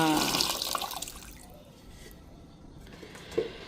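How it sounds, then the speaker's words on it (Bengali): A short splash of water pouring into a pot, loudest at the start and then fading to a soft trickle, with a small knock near the end. "এখন এর মধ্যে দিয়ে দিচ্ছি পানি"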